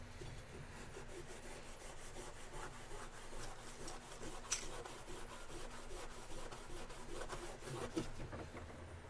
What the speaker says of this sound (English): I might just try to Scotch-Brite this up.